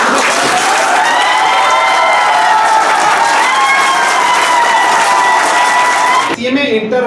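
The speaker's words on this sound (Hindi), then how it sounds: "एक बार कम से कम जोरदार अपने लिए ताली बजाओ।" A hall full of students breaks into loud, sustained applause that holds steady for several seconds and stops abruptly, with a voice heard over the clapping.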